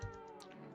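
A cat in a video game gives one short, steady meow lasting under a second, close and clear over a faint constant background.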